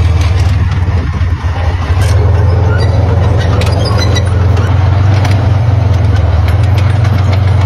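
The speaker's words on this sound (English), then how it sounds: "you can just hear how lovely that engine sounds" A Soviet T-55 tank engine runs steadily close by in a museum setting, a loud continuous low diesel rumble with a constant heavy drone and no talking.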